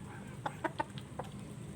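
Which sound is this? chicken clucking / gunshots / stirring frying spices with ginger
chicken clucking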